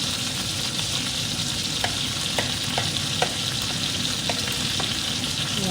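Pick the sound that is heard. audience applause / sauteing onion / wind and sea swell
sauteing onion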